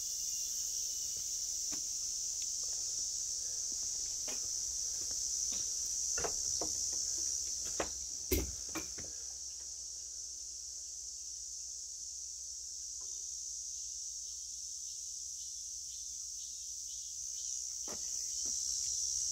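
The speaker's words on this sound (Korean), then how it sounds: "하늘에 뭉개구름 매미 소리는 난리 부르소" Cicadas drone in a steady, loud, unbroken buzz at a quiet mountain prayer retreat in Taebaek under a summer sky, with a few faint clicks and steps underneath.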